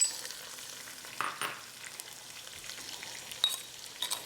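Onions sauté in a pan with a soft, steady sizzle and faint stirring scrapes, heard close and quiet with no talking.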